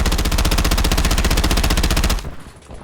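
Rapid automatic gunfire in the video game Warzone, a fast even burst of shots lasting about two seconds that cuts off abruptly into a fading tail.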